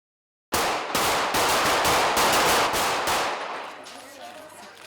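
Police fire rapid bursts of gunfire at runners, a quick volley of about ten loud, sharp cracks in fast irregular succession that ends abruptly and leaves a fading echo, with no voices.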